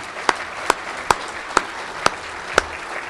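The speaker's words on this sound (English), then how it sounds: "let us give a big round of applause for our panel today" A handful of sparse, separate hand claps, about six spaced evenly across a few seconds, fairly close and sharp, greet a conference panel with no voices over them.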